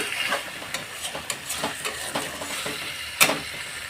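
Mustard-almond spice paste frying in oil in a pan, a continuous soft sizzle with repeated light scraping strokes of a spoon and one sharper clink near the end.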